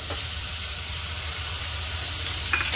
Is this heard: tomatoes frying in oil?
yes